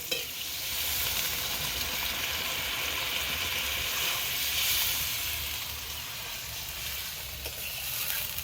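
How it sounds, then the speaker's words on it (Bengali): Chicken curry in a pan gives off a loud, steady sizzle and hiss as warm water is added to the spiced oil, heard close up for the whole stretch with no talking. "কষানো হয়ে গেছে ভালো তেল ছেড়ে দিয়েছে এবার আমি উষ্ণ গরম জল দিয়ে দেবো"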